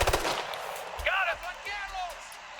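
Gunfire in the Ghost Recon Future Soldier video game, a few sharp shots at the start followed by a louder blast, with game sound effects and chirpy electronic tones afterward.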